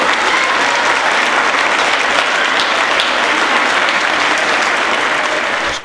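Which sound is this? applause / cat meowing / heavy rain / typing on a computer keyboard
applause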